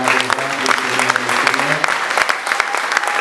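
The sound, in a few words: church congregation loudly cheering and applauding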